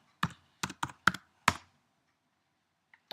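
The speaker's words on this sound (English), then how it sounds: "I'm going to type in my password." A handful of crisp keystrokes on a computer keyboard as a password is typed, five quick taps in a short burst then two faint ones, close and clear in a quiet room.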